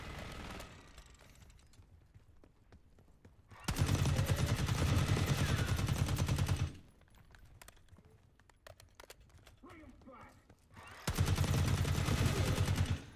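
Machine gun fire in Call of Duty Black Ops 6 comes in two loud, dense, sustained bursts, one about three seconds long and a shorter one near the end, separated by a quieter stretch of faint game ambience.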